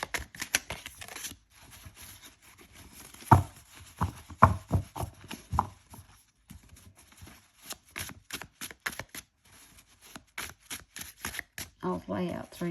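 A deck of tarot cards is shuffled and riffled repeatedly, crisp bursts of card noise close by, with a person talking intermittently in between.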